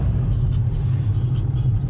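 Car traffic rumbles steadily along a street in Aix-les-Bains, a continuous low engine drone with no clear gaps between passing vehicles, fairly loud and close.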